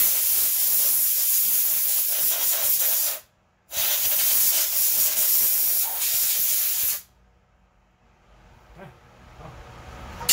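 Air blasts dirt off the carburetor of a cheap weedwacker in a loud, steady hiss that breaks off briefly partway, resumes, then stops and leaves near silence.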